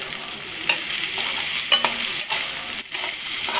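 Drumsticks in ginger garlic paste being stirred in a pan: a steady hissing sizzle with several spoon scrapes and knocks against the pan, close and continuous throughout.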